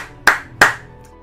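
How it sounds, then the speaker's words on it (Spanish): Two sharp, separate hand claps ring out close by about a third of a second apart, each with a short room decay, after a spoken call for applause for the team during a FIFA 21 football career session. "Un aplauso por el equipo."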